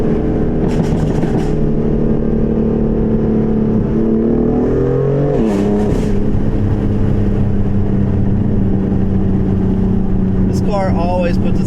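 A BMW F80 M3 or F82 M4 engine drones and revs, the pitch rising and falling in a couple of swells, loud and close over a steady low rumble, with someone talking over it.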